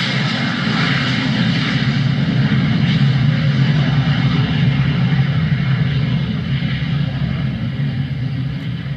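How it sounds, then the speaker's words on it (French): Departing airplane jet engine sound effect, a loud, dense, steady roar with a low rumble underneath that holds unbroken throughout, with no talk. "Airlines annonce le départ de son vol 722"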